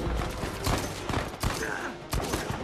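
Bursts of rapid gunfire in Uncharted 4, in the Madagascar chapter, several volleys in quick succession with sharp cracks, loud and close, no talking.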